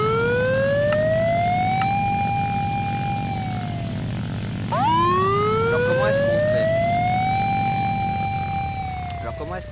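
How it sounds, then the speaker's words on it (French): A police car siren in the Minecraft DarkRP modpack video game wails in loud rising and falling sweeps, restarting once midway, with a steady engine-like hum underneath. "la sirène de police. Désolé pour le bruit."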